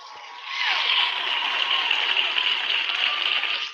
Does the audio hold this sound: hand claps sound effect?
yes